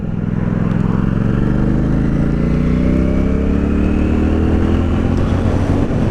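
CF Moto 450 SR-S motorcycle ridden at motorway speed, a loud, steady engine drone with rising harmonics as it pulls, mixed with constant heavy wind roar.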